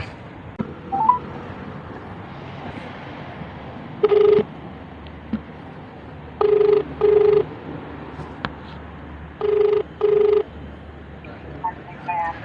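An outgoing phone call to a customer rings on the line: three double-pulse ringback tones at steady intervals over a quiet background hiss.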